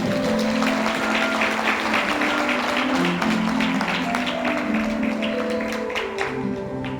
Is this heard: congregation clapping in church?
yes